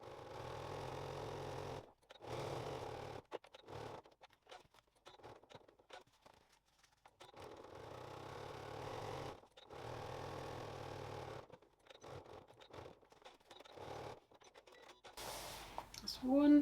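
A sewing machine runs stitches along a fabric weekend bag in several humming bursts of rapid needle clatter. Pauses and soft handling sounds fall between the runs, and a voice talks at moments.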